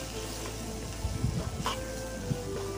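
Ground cumin, fennel and turmeric fry in oil in a pan as the base for a mutton and potato curry, giving a steady soft sizzle with a few scraping stirs of a utensil partway through.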